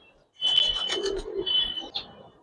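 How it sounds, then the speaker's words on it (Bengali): A Giribaz coloring pigeon in a loft coos up close, a short soft run of low, throaty burbling notes lasting about two seconds, with a faint higher chirp mixed in. "অনেক পছন্দের একটা কবুতর।"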